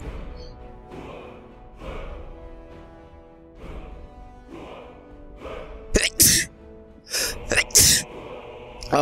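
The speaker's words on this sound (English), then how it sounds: "I sneezed a little bit." A person sneezes a few times in quick succession, sharp and loud bursts near the end, after a stretch of someone talking about the game Skyrim.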